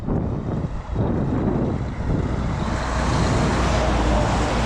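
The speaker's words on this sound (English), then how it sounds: "log truck" A log truck passing on a road on a cold, windy morning, a loud low rumble that swells and builds toward the end, mixed with gusty wind buffeting the microphone.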